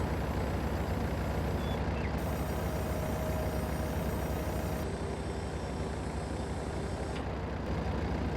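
A Massey Ferguson tractor in a video game reverses to hitch up a sprayer, its engine droning steadily and loud throughout, with a continuous tonal whine and brief beeps over the rumble.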